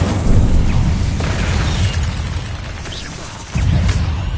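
An Incendio fire spell cast in Hogwarts Legacy lands as a loud, dense roaring burst with a rushing fiery tail, swelling again with a second surge near the end.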